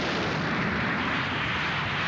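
A U.S. Air Fokker F-28 jet airliner's engines roar in a steady, loud, broadband rush that holds without a break from start to finish.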